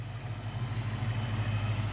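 A Ford FoxBody Mustang with a 5.0 V8, parked for over ten years and now running, idles with a low, steady rumble throughout, smooth and unbroken with no talking.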